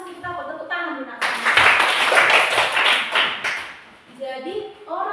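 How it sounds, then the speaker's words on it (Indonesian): Students in a classroom clap their hands together in a loud, dense burst lasting about two seconds, with talking before and after it. "Tepuk tangan dulu, nak."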